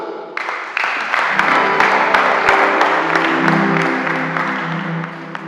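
A church congregation breaks into loud applause, a dense run of sharp claps that swells and then carries on steadily, with faint voices mixed in beneath the clapping.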